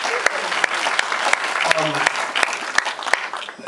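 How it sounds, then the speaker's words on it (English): An audience applauds a writer's introduction at a talk, scattered claps sounding moderately close, with a voice speaking over part of it. "get the light and then people can applaud"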